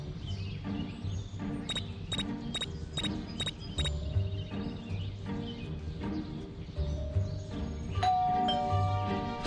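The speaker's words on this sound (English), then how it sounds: "There goes that stupid bell again." A doorbell at Miss T's house in Scary Teacher 3D chimes rapidly several times in a row, bright and insistent, amid game background music and ambient effects.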